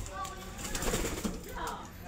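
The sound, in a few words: pigeons cooing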